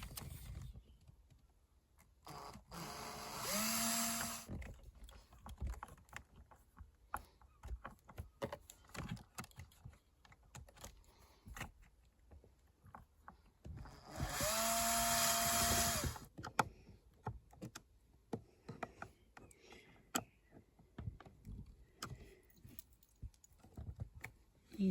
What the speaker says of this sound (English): Small drill bit, just for a pilot hole.